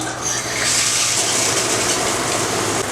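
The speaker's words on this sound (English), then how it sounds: "I love me a hot shower, y'all." Hot shower water pours hard and steadily, a loud close broadband hiss with a gushing texture that fills the whole moment without voices.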